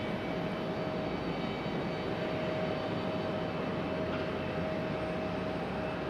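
Airliner engines at Raleigh Durham airport, a United jet preparing to depart, produce a steady, broadband roar with a faint tonal whine, heard from a distance for several seconds without any voices.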